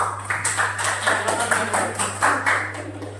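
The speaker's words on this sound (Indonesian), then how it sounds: "Beri tepuk tangan untuk kelompok 1 ya." A classroom gives group 1 a round of applause after their discussion on the Prophet Muhammad's hijrah, bursts of many hands clapping in uneven pulses over a steady low electrical hum, moderately loud, with no talk.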